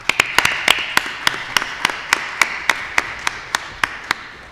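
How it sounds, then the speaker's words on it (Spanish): An audience at a book presentation gives a steady, even round of applause to welcome the author, the clapping sustained and moderately loud with sharper individual claps standing out regularly across the crowd. "lo recibimos con un caluroso aplauso"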